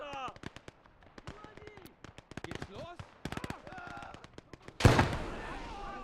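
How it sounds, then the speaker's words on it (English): A grenade blows up in a multiplayer World War II shooter, a sudden loud blast late in the clip after a run of sharp gunfire cracks, with a voice speaking over the action. "What type of grenade throw was that?"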